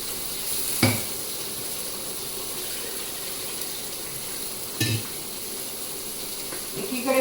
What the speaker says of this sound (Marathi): आता मी हा मसाला घालून घेते आम्ही चांगला भाजून घ्यायचा